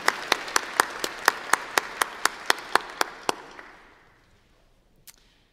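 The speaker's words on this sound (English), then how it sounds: "Let's give them a big round of applause." An audience at a Bow Valley College convocation ceremony claps in slow, even unison for about three and a half seconds, about a dozen sharp beats, before the applause fades into near silence.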